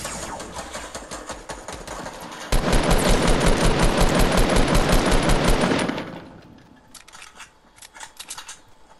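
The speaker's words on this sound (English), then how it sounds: "I'm not worried about the scar, I'm just saying there's a guy shooting at us with one" Rapid automatic fire from a SCAR assault rifle in Fortnite, a loud dense burst lasting several seconds, with fainter scattered shots before and after.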